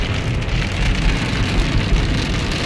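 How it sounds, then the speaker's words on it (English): Heavy rain drums steadily on a car while it is driven through a storm, a dense continuous wash of noise throughout with no voices. "Look at how rainy it is."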